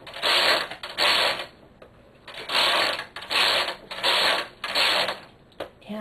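A domestic knitting machine carriage knits rows of purple waste yarn, giving loud repeated mechanical rasping sweeps, each about a second long, separated by brief pauses.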